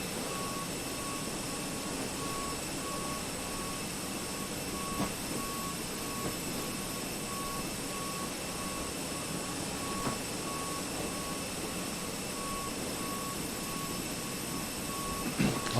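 Cabin and engine drone from CFM56 jet engines on an Aer Lingus Airbus A320 in Microsoft Flight Simulator, a steady, even whine with constant tones throughout, a few faint clicks and no talking.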